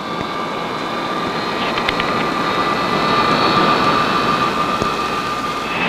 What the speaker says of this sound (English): The airplane's response to controls at takeoff speeds was tried in a series of fast taxis.